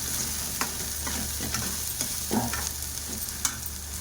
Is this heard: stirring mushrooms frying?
yes